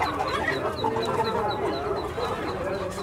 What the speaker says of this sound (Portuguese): Aqui também tem um galo bonito